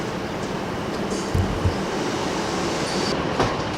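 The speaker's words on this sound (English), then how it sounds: "your train's arriving just about now." A train rumbles steadily close by, with low clanks and rolling wheel noise as it pulls in; no voices.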